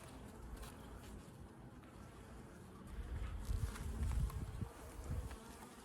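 Honey bees buzz steadily around a frame lifted from a hive during a walk-away split inspection, a dense close drone that swells louder toward the end, with no talking.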